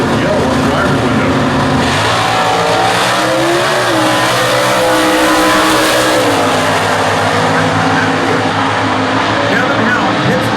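A Hemi-powered Factory Stock drag race car roars hard down the strip at the US Nationals, a loud continuous engine howl with rising pitch and tire noise, heard close while a commentator talks over it.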